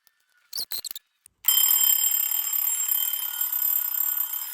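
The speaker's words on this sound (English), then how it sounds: "it is a really kind of nice little alarm clock" An old plastic wind-up alarm clock is handled with a few light clicks, then its bell rings loud and steady, close by, until the end.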